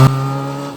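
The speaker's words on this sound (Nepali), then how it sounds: "कस्तो बेगले लगायो त्यो बाइक" A motorbike speeds past on a road, its engine giving a loud, close, steady whine that fades only slightly across a brief moment, with no talk over it.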